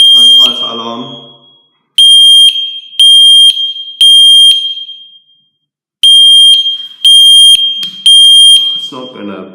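Several FireAngel Wi-Safe 2 networked fire and CO alarms going off at once, loud high-pitched beeps in two sets of three pulses separated by a short pause, close by, with brief talking at the start and end.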